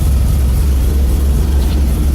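A bus engine idles after a cold start, a loud, steady low rumble with a constant throbbing drone and no change in pace.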